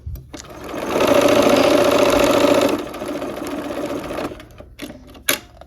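A sewing machine runs a quilt block seam with the needle down near pins, a loud steady close whir for a couple of seconds, then a softer slower stretch of stitching, with a sharp click at the end.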